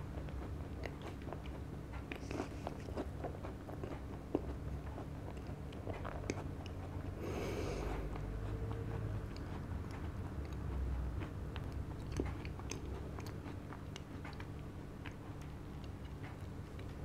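Close-up chewing of a creamy cheese tart, with soft, quiet crunching and a steady run of small ticking mouth clicks and bites over a faint background hum, no talk.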